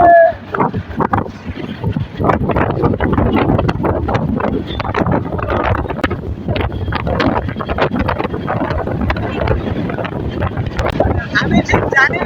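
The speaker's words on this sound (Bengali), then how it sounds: "ট্রেনের এত বড় শব্দ আর হচ্ছে বাতাসের পরিমাণটা অনেক বেশি" Loud, rushing train noise with strong wind buffeting the microphone, a continuous roar heard from aboard a moving train.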